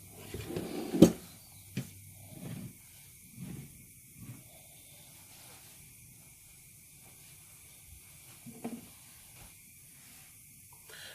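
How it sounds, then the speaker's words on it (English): A cinnamon stick drops into hot oil and gives soft, faint hisses and sizzles in short bursts, with a few clatters from the pan in a quiet kitchen. "The cinnamon stick is sizzling"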